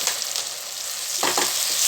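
Steady loud sizzling of two spoons of ginger garlic paste frying in a hot pan, with a brief stirring scrape near the end.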